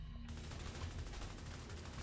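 Rapid gunfire in a video game, fired at a 5-meter target as a continuous dense burst of automatic shots that starts abruptly and stays loud throughout, with no speech.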